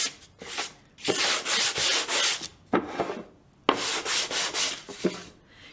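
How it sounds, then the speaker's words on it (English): Light hand sanding of painted wood, rough rasping strokes in quick repeated bursts with brief pauses, close and fairly loud with no talk. "So just a light sanding."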